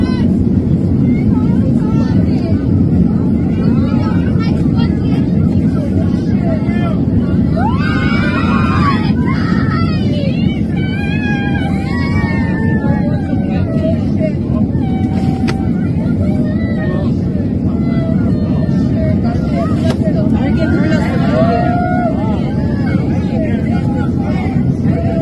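Steady, loud airliner engine drone during flight after an engine fault with flames, a dense broadband roar filling the whole clip with no let-up.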